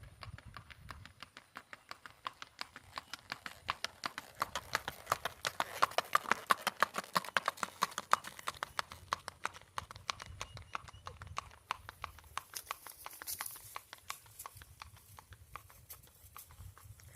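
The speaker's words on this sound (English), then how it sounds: "we're going to get him gaiting coming back the other way" Hooves of a silver dappled gray registered Tennessee Walking Horse gaiting on a driveway beat out a rapid, even four-beat clatter, passing close and loud before fading, with brief talk and background music.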